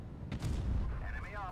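A tank cannon fires in a tank video game, one loud, close boom that rolls into a heavy rumbling tail and fades within a second and a half.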